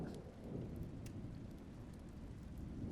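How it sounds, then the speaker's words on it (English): Faint rain on surfaces with a low, distant rumble of thunder rolling beneath it during a storm, soft and far off with no voices. "It was thunder."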